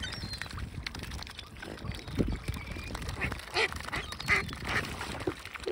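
Ducks quacking at an outdoor winter feeding by the water at daybreak, with a swan family nearby; a few short quacks stand out over a busy, rustling background.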